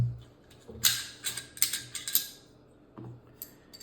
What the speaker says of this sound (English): And then I'm going to take the charging handle.